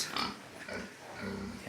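Pigs being fed on a farm pen, with a piglet oinking among them; grunts and snorts rise in a dense, steady layer of animal noise at moderate volume, close by, with no clear talk over it.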